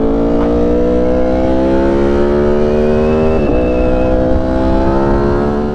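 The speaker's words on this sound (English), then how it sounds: "That's a sick exhaust." A Ducati motorcycle with a dry clutch and aftermarket exhaust revs loud and close, its engine note rising steadily through the revs with a brief dip partway through, holding a dense droning tone throughout.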